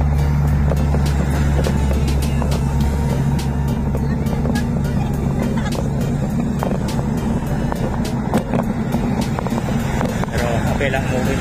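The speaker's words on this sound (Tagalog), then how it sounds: "Ayun, traffic na nga." Steady road traffic heard from a bicycle while cycling home, a constant engine drone and road rumble close by with passing vehicles, and someone talking over it.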